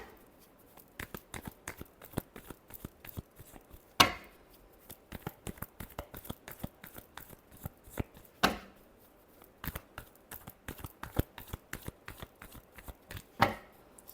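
Tarot cards shuffled by hand in a close, quiet room: rapid papery riffles and flicks in bursts, with three sharper snaps where the deck is tapped or squared, and no voices.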